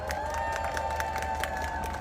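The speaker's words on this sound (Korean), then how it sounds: "정동영 후보님께 다시 한번 큰 박수 부탁드립니다." A political rally crowd applauds and cheers for Chung Dong-young at a campaign event, a steady dense patter of clapping at moderate distance with faint shouts mixed in.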